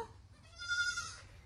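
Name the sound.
goat bleating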